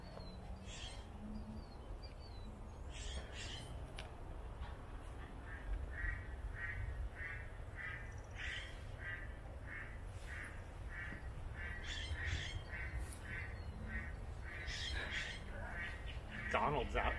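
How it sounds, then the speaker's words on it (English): Duck quacking outdoors beneath a grove of old heritage blue oaks, a series of short repeated nasal calls spread through the clip over wind and ground noise while people talk nearby. "Where is that duck?"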